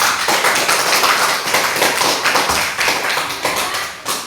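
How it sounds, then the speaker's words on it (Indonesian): Elementary school pupils clapping in a classroom for a student group, dense loud claps continuing steadily for about four seconds, close by and with no talk over them. "Tepuk tangan kelompok 1."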